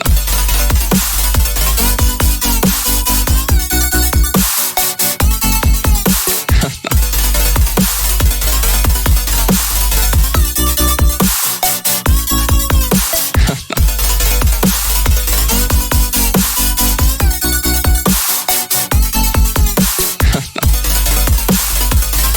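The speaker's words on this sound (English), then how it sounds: "we'll just get straight into the second drop, which sounds like this" The second drop of a future bass track built in Ableton plays loud and dense, with pumping heavy bass, chopped synth chords and punchy drums running continuously.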